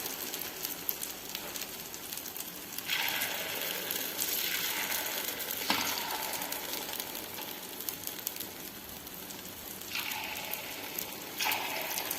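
Spicy kuzhi paniyaram batter frying in oil in a pan, a steady, dense crackling sizzle throughout with a few brief louder hissing surges.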